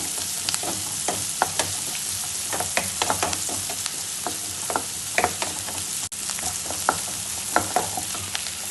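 Onions fry in a pan toward golden brown for sweet corn soup, a steady close sizzle punctuated by frequent sharp stirring clicks and scrapes from a utensil against the pan.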